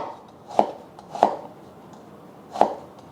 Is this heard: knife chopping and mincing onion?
yes